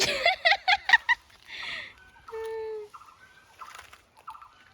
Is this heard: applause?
no